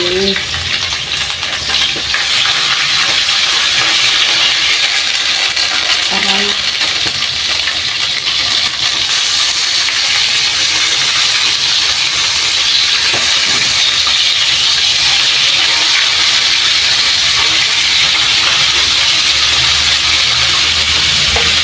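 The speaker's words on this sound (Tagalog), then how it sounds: "yung nabili ko yung isda, ipiprito ko" Fish fries in a home kitchen pan, giving a steady, loud sizzle and crackle that runs unbroken throughout, with faint scattered pops and clinks.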